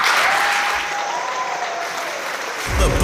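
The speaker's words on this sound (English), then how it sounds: "a big round of applause for Bernadette Heron" Loud, dense applause fills an NHS Foundation Trust values awards ceremony as a Gold Award goes to an absent recipient. The sustained clapping from a large crowd stays close and continuous, then swells slightly at the end.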